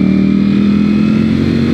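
A Ducati Streetfighter V4 S motorcycle engine runs steadily and loudly up close, a dense, even engine drone with no talking.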